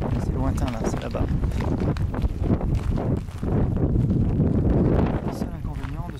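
Strong wind buffeting the microphone with loud, gusty rumbling throughout, at night in a cemetery, while a person talks underneath it.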